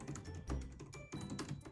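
An old laptop keyboard is typed on in a quick, uneven run of soft, close key clicks and taps, with no voices.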